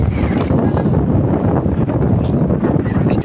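Strong wind blows outdoors in the hills at Temkechung, buffeting the microphone with a loud, steady rumble and gusty roar that lasts throughout.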